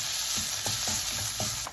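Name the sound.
onions sautéing in a pan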